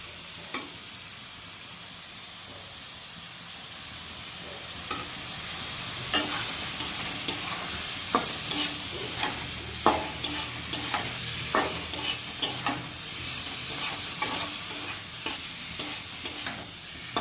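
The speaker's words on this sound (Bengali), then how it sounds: "মশলাটা এভাবে কষাতে থাকবো" Pointed gourd and potato curry with spices is stir-fried in a pan, giving a soft continuous sizzle and a rapid series of close utensil scrapes and taps that grow busier midway through; no voices.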